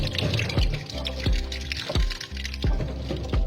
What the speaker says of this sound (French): Simplement rincer mes pommes car elles sont